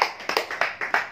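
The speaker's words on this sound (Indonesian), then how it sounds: "Bapak Ibu bisa berikan tepuk tangan bagi Tuhan Yesus." A congregation at a church service claps hands in a handful of slow, spaced claps, moderately close and fairly faint, with no talking.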